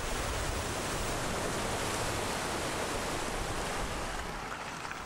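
A BMW 5 Series GT ploughs through deep water at speed, throwing up a loud, continuous roar of splashing spray that holds steady and fades slightly toward the end.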